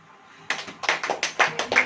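Church congregation clapping hands together, starting after a quiet moment and settling into a steady rhythmic beat of sharp claps that build slightly in loudness.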